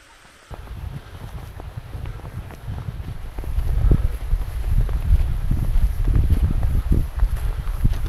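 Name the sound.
wind at a Scottish reservoir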